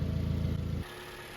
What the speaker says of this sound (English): So here's a 2017 Camry, similar engine here. Working just as it should.